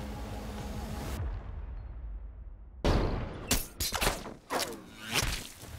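A sharp gunshot bursts out in a film scene after a quiet stretch, followed by several whooshing, thudding impacts and swishes, moderately loud with no clear speech.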